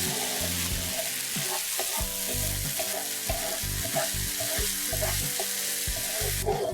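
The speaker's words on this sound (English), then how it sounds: "Cook the masala paste till it's nice and brown." Masala paste sizzles and fries steadily in a hot pan, with repeated scraping and clacking of a spoon stirring it through, constant and close, no voices.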